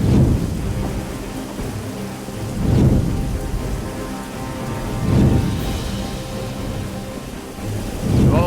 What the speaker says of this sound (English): All of a sudden, this huge storm bears down on them.